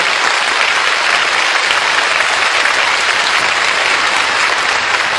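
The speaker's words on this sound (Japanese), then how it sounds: "よろしければもう一度拍手をお送りください。" Sustained audience applause fills a live voice-actor stage event after a musical performance, a dense, steady clapping from a large crowd with no talk over it.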